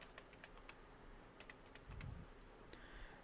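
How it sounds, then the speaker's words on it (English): A password is typed on a computer keyboard as a quick run of crisp, close keystrokes in irregular bursts, with a soft low thump in the middle, all quiet and without talk. "So type your password which you have created"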